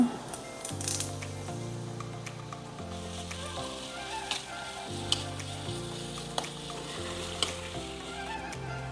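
Clams for sukka masala fry in a pan with green chili and curry leaves, giving a continuous close sizzle with occasional stirring clicks over soft background music.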